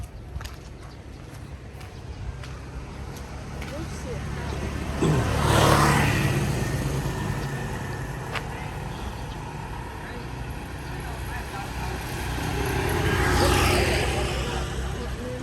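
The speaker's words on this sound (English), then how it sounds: "Too much traffic on this road, right?" Traffic on a road through a Vietnamese fishing village, with two vehicles swelling past nearby a few seconds apart over a constant background murmur and occasional sharp ticks.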